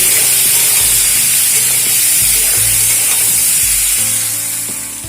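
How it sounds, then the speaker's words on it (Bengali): Potatoes frying in a pan with turmeric and salt, a steady, close sizzle running throughout and easing slightly toward the end, with no voices. "হলুদ আর লবণ দিয়ে আলুগুলো খুব ভালো করে ভেজে নেব"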